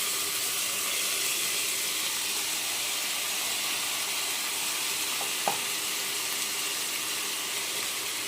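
Lentils and rice frying in a pressure cooker with browned onion give off a soft, steady sizzle throughout, with one brief clink midway and no talking.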